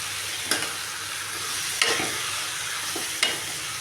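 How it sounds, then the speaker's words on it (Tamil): Steady, close sizzling of bottle gourd frying in oil, broken by three soft scraping stirs spaced about a second apart; no voices. "இப்போ பாருங்கள், நம்ம சுரக்காயும் கொஞ்சம் ஓரளவுக்கு எண்ணெயில் வணங்கிருச்சுங்க"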